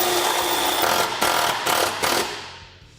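A power tool drives self-tapping screws into a Honda Talon 1000 skid plate, whirring loudly and close with several short pulsing bursts before winding down to a stop.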